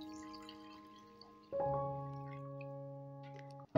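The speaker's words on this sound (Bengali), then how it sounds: "এবারে আমি জল দিয়ে দিচ্ছি।" Water poured into a cooking pot of soybean and potato curry gives a faint, ringing pour with a brief splash, then a steady resonant tone for about two seconds.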